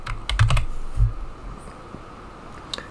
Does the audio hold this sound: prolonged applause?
no